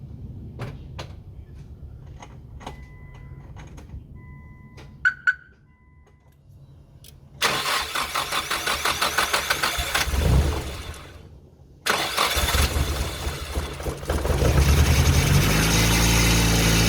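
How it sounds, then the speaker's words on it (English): A Nissan S15 running on E85 fuel cranks over after some quiet clicks and door sounds, catches briefly, dies, then starts again and settles into a loud, lumpy idle close to the microphone. "we'll quickly start the engine and see how it goes"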